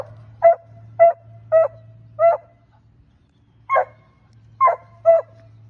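A coonhound barking at a tree during outdoor tree training: seven sharp, loud barks, four in a quick even rhythm, a pause, then three more, with a low steady hum underneath.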